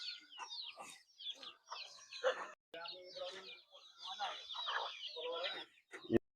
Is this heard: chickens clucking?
yes